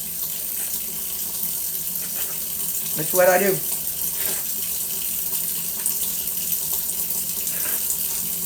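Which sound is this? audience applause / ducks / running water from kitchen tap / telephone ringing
running water from kitchen tap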